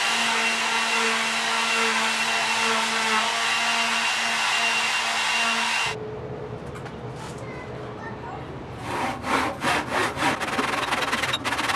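Wood pieces cut to size for a musical instrument storage rack: a loud, even buzzing power-tool whine runs for about six seconds, then stops, followed by a series of quick, close rasping saw strokes.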